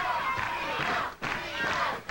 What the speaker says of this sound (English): you can hear the chant by the crowd here